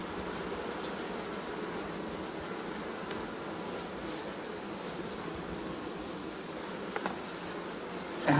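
Honey bees buzzing steadily at an open hive, a dense, even hum holding throughout with a faint click near the end.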